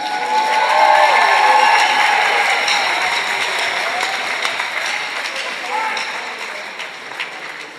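A crowd at a high school game applauds and cheers loudly, a dense wash of clapping that swells early and slowly tapers off.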